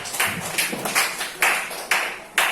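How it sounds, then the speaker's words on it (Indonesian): A group of teacher trainees claps in a patterned rhythm: a series of about seven sharp, distinct clap bursts in an uneven beat, fairly close, with brief gaps between them. "tepuk tangan dulu 100 untuk Bapak Ibu semua"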